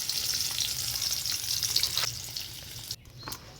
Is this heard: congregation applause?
no